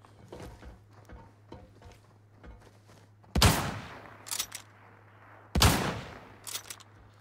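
M24 sniper rifle in a first-person shooter on the Armory map: two loud, sharp gunshots several seconds apart, each with a long ringing tail, over a steady low hum and quieter scattered game noises.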